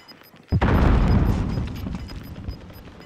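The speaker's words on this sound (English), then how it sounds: "Pulling out a grenade." A single loud in-game grenade blast goes off close by with a sharp onset, followed by a deep rumbling decay that fades over a couple of seconds.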